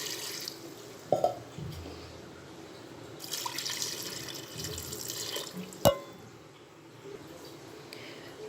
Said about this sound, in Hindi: अब हम तकरीबन 4 ग्लास के करीब इसके अंदर पानी ऐड करेंगे